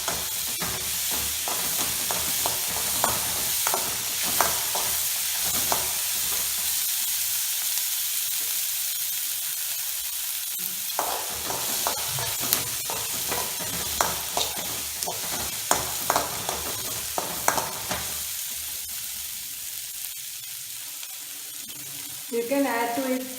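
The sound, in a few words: onion frying in a pan for dal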